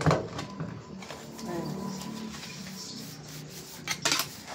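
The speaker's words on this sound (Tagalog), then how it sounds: "So, maghugas tayo ng pinggan." Dishes being washed by hand with homemade dishwashing liquid: close rubbing and scrubbing with occasional clinks of plates, running continuously, with a voice faintly present in the background.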